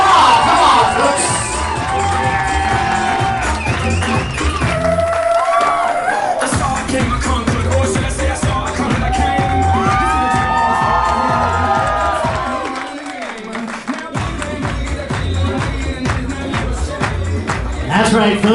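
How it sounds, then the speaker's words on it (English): A wedding crowd cheers, whoops and claps for the bride and groom, loud and continuous with excited shouting mixed in and a brief dip before the noise rises again. "Come on, folks, give them a big round of applause."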